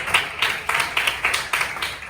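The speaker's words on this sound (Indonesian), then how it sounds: "berikan tepuk tangan untuk nak" A classroom of students gives a short round of applause, the clapping coming in regular, evenly spaced bursts that swell and fade over a couple of seconds.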